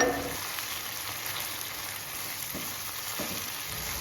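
Water hits a lemongrass spice paste in a frying pan, giving a steady, fairly quiet sizzle with a few faint scrapes from stirring.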